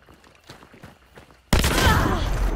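Gunfire in Hunt: Showdown from a shotgun or hand cannon, one loud close blast that bursts in after quieter rustling and rings out with a long rumbling tail.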